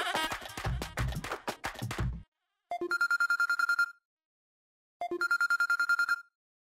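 A telephone rings in two separate bursts of bright, repeating electronic trills, close and loud, with a short pause between them, after a brief stretch of music.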